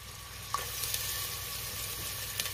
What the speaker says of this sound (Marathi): तेल गरम झाले, तेलात मी तमालपत्र टाकते। त्यातच आपल्याला कांदा टाकायचा आहे